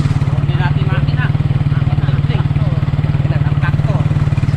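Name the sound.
tractor engine running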